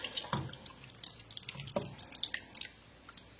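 Cream of celery soup poured over pork chops in a baking dish, soft wet plops and drips in irregular bursts, close and quiet with no talk.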